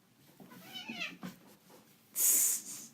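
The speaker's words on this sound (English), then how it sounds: "My cat's in here." A pet cat meows several times in a short rising and falling series, close to the microphone, followed by a louder, harsher hissing burst at the end.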